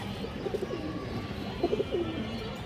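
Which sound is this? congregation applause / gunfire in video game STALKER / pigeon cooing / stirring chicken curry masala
pigeon cooing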